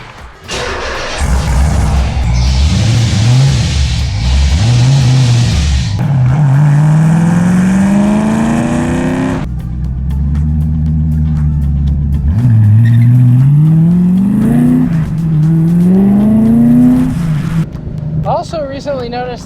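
A Nissan Z sports car engine revs and climbs through gears on a road drive, rising and falling pitch sweeps loud and close, with a couple of brief gaps and shifts.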